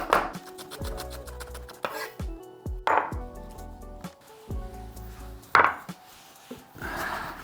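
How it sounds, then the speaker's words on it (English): Grated vegetable bits for a roast dinner being chopped fine with a knife on a wooden board, irregular bursts of quick close thuds separated by short pauses, no talk. "just chop these up fine"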